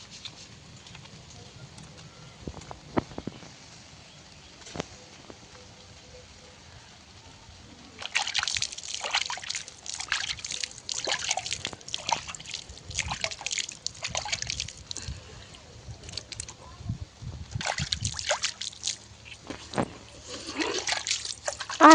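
Water runs and splashes in irregular bursts as someone washes their face, close by, with spells of trickling and dripping after a quieter start.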